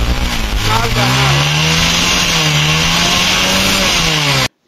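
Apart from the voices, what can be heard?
motorcycle engine running after wiring repair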